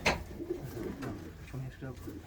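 Racing pigeons coo softly in a loft, low repeated throaty calls close by, with people talking faintly.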